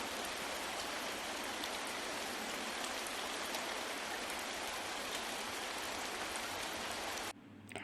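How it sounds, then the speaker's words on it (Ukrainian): Steady autumn rain pours down as a dense, even hiss of drops on surfaces, continuous for several seconds before cutting off abruptly. "А це пісня дощика восени."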